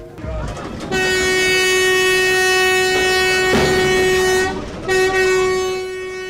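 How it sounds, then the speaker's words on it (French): A train horn blares long and loud close by, holding a steady tone for several seconds, briefly breaking, then sounding again over the rumble of passing rail cars. "Ce klaxon, Yamoussa ne veut pas l'entendre"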